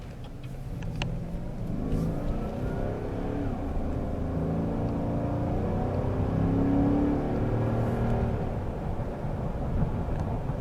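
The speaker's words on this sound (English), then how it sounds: "Pulling out of here, we'll test its acceleration and see how fast it gets up to speed." A 2018 Chevrolet Silverado 1500 Crew Cab LTZ pickup with a 6-speed automatic accelerates from a stop, its engine a steady low drone rising gradually in pitch, heard from inside the cab with no talk.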